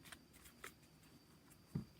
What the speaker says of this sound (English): let me just go ahead and shuffle